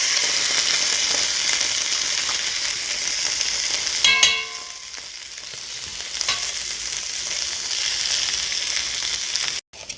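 Onions and tomato paste fry loudly in a pot for a Filipino beef mechado stew, a dense steady sizzle with a brief clatter of stirring midway and a sharp cutoff at the end.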